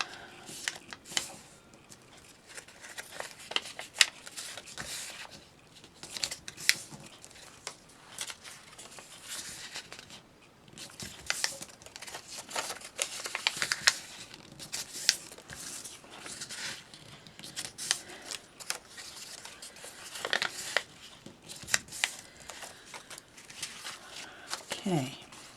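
Paper sheets folded in half for notebooks make soft, close crinkles, creases and rustles in irregular bursts, with a voice talking at times throughout.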